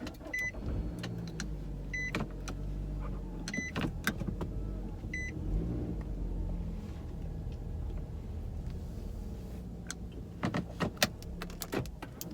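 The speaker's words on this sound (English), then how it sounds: "let me move this car forward" A car being moved forward, heard from inside as steady low engine and road rumble with a power window motor whirring briefly several times and scattered clicks and knocks toward the end.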